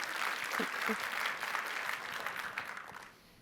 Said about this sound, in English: All right, you got to clap.